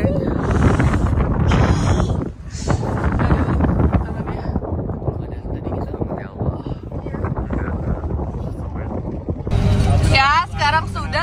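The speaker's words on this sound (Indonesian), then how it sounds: "Dingin banget anginnya sih." Strong, cold wind buffets the microphone at the Bromo sunrise viewpoint, a loud continuous rushing that runs under people talking throughout.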